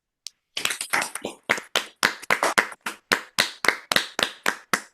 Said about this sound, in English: I think we can offer a round of applause online